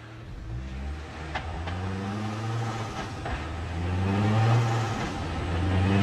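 Mustang engine revving in fourth gear on an eddy current dyno, a close, steady, loud rumble that holds at about one speed and then swells toward the end.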